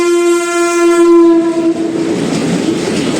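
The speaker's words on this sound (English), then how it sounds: "There is a goods train approaching." A goods train passes a level crossing near a busy highway, its horn sounding a loud sustained blast before fading into the heavy rumble and clatter of wagons rolling close by.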